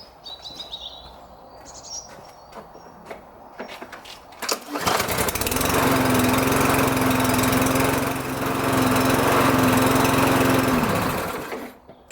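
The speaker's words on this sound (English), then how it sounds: "let me just do that now and start the engine up" An engine cranks and catches after about four seconds of quiet outdoor ambience with birdsong, then settles into a loud, steady idle while it warms up before an oil change, cutting off near the end.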